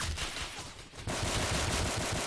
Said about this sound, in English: I'm swapping into machine gun now.